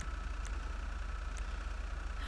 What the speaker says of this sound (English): We can do an engine upgrade.